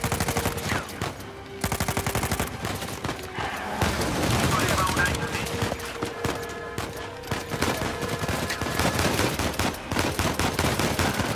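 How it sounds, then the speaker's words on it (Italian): Enemy gunfire in Uncharted 4 crackles in repeated volleys of shots, with lulls between them, some shots close and sharp and others more distant, set over tonal game music and effects. "qualcuno mi sta sparando"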